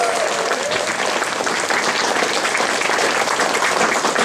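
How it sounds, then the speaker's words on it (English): Sustained applause from a convention audience at a closing ceremony honouring winners, dense steady clapping throughout at a loud, even level with no breaks. "Big round of applause to our winners."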